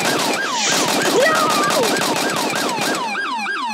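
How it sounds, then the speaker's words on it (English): Rapid automatic gunfire in a Roblox police roleplay game, a fast continuous rattle of shots layered with wailing police sirens, loud and dense throughout. "Why is he still shooting me?"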